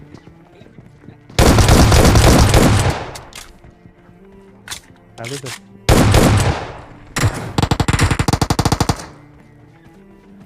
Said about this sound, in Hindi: यहाँ से भी कोई फायर की आवाज आ रही थी